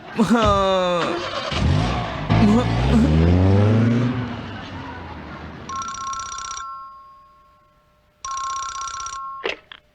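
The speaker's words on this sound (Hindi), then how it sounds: "नोबिता, तुम्हारा फोन है।" A telephone bell rings in loud repeated bursts, two long trills separated by a pause, following louder animated sound effects and chatter; a voice speaks near the start.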